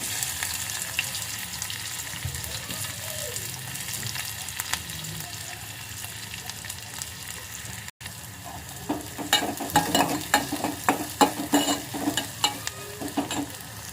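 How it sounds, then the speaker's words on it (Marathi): Garlic and onion frying in hot oil, a steady close sizzle that turns busier in the latter half, with rapid crackling bursts and stirring scrapes. "तेल तापत ठेवले, लसूण, कांदा,"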